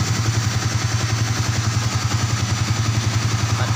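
A Yamaha Vixion motorcycle engine with a newly fitted regulator-rectifier idles steadily close by, a low, even pulsing rumble with faint mechanical clatter and no voices.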